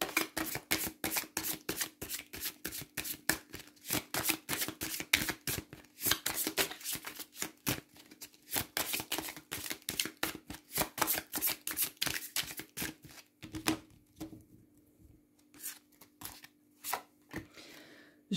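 Tarot cards being shuffled by hand in rapid, dense bursts of crisp papery riffles and slaps, close and fairly quiet, continuing in irregular rhythm with short pauses and no talk.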